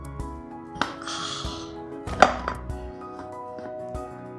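Metal bundt cake pan turned over onto a plate, giving a few dull clunks and knocks with a brief ringing ping, then quieter handling noises, and no talking.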